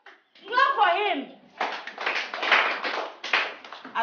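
Students in a classroom clap their hands, a burst of scattered claps after a teacher's voice, with talk continuing over and between the clapping.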